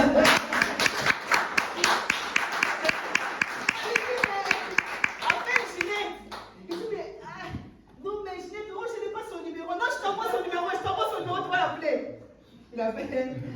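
A church congregation claps in steady rhythmic unison for several seconds, then the clapping gives way to a voice speaking loudly over the room.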